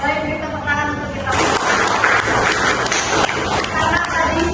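A classroom of students breaks into applause, a sustained burst of clapping from the group that starts abruptly and carries on steadily, fairly loud and close, with some voices mixed in.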